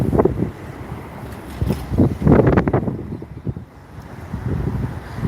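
Gusty wind at Sheepshead Bay buffets the microphone in uneven low rumbling bursts, rising and easing over several seconds, with open waterfront ambience in between.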